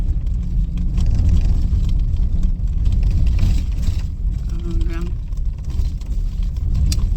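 A car driving along a road toward Mthatha in the Eastern Cape, heard as a steady, loud low engine and road rumble throughout, with faint voices now and then.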